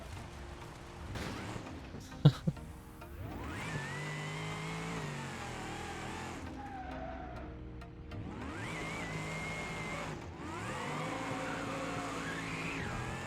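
An all-wheel-drive muscle car drifts in BeamNG Drive, its engine revving in rising and falling sweeps while the tires squeal and skid through repeated slides, with a sharp clunk early on.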